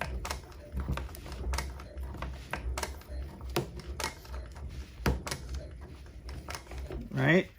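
Rapid mechanical clatter of a walking-foot sewing machine stitching through leather and a zipper, in uneven bursts, with scattered sharp taps and a low hum underneath, close by.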